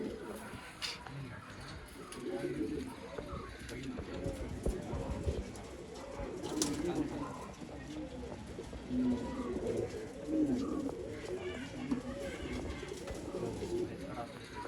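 Domestic pigeons of an old-line breed coo steadily in a loft in Bangalore, soft overlapping rolling coos filling the space nearby while someone talks over them.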